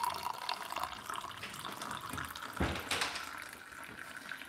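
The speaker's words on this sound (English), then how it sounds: "So pour in, but leave enough room at the top for the cream." A drink is poured into a skull-decorated glass for a St Patrick's Day drink, leaving room at the top for cream; a steady liquid trickle with a brief louder splash partway through, alone with no talk.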